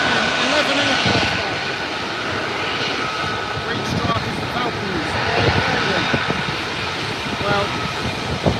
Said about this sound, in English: There's an F-35 crossing, so there's 9, 10, 11 aircraft.